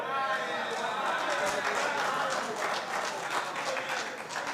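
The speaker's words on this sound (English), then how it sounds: "Let's give Moja EV another round of applause, guys." Audience applause at a Nairobi tech week event, honoring the electric vehicle startup Moja EV: dense, steady clapping from a large crowd fills the room throughout, with faint voices mixed in.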